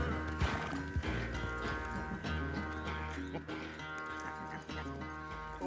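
Horse hooves clip-clopping with a neigh in Red Dead Redemption 2, set under a music bed and game ambience, with intermittent sound effects throughout.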